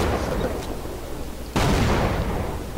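A grenade blast and gunfire in the video game Sven Co-op: a dense roar of noise breaks into a sudden loud burst partway through, followed by a sustained rumbling wash.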